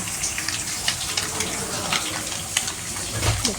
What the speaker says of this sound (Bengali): পেঁয়াজগুলো ভেজে নিচ্ছি